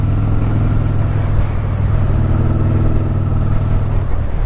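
A Yamaha cruiser motorcycle engine drones loud and close under way, a steady low rumble while riding with a slight rise and fall in revs and no voices.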